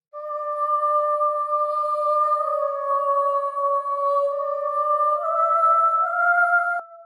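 Sustained choir-like voices from a game music track, two held tones shifting pitch slowly, clean and steady with no talking.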